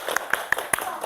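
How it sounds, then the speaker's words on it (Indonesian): A few rhythmic claps from students in a primary school classroom, four or five sharp, evenly spaced hand claps close by, with a voice faintly under them. "Kita kasih hadiah, tepuk tangan."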